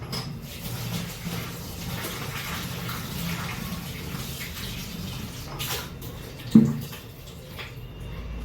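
Tap water runs steadily while mutton liver is washed in a home kitchen, a continuous low splashing with a single sharper knock near the end and no talking.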